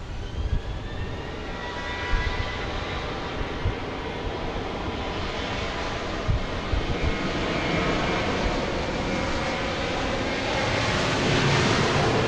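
An airliner takes off at Dallas Love Field, a broad rumbling engine roar that swells gradually over several seconds, heard from the airport surroundings with some low thumps near the start.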